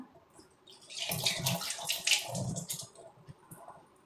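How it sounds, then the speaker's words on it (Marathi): Cowrie shells washed in water for a puja, with splashing and trickling that rise after a quiet start and continue in uneven bursts at close range, with no talk. "या अशा तुम्ही कवड्या धुवून घ्यायच्या."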